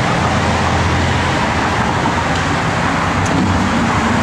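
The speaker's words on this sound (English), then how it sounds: "bunch of cars coming" Steady road roar from a bunch of cars passing by outdoors, a continuous loud wash of traffic with no pauses and no talking.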